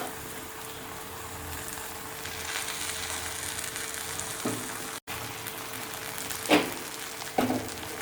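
Cooked fish being mixed into tapioca fish biriyani in a hot pan, a soft continuous sizzle with a few brief scraping stir sounds near the end, no speech.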